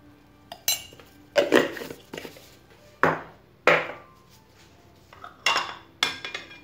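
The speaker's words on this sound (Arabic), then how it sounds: "ونخلطوا كلشي مره واحده" Utensils clink and scrape against a bowl while ingredients for a savory cake batter are stirred together, giving several sharp, close taps and rattles in separate bursts with short quiet gaps between them.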